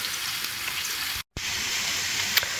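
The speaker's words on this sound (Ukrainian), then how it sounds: "Зараз його спочатку треба підсмажити." Fish sizzling steadily in a hot pan, a close, even frying hiss broken by one brief gap of silence.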